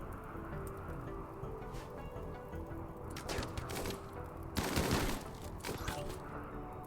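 Gunfire in the RimWorld colony sim, with bursts of crackly rapid shots rising over a steady noisy background, the densest volley near the end, mid-distance and moderately loud.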